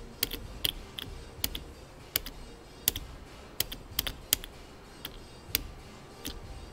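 A Ferrari F430 E-Diff component toggles when power is applied across its pins, making scattered sharp clicks and ticks at uneven intervals, close up and fairly quiet over a low background hiss, with no speech.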